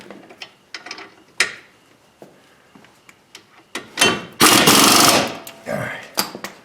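Power tool tightening brake caliper bolts on a 2008 Ford Focus during a front brake job, sounding in several sharp bursts, with one long loud run near the end, alongside brief speech.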